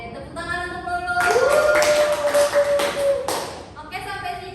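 A classroom bursts into a short round of clapping for a student during a micro-teaching lesson, about two seconds of dense hand claps under a sustained voice.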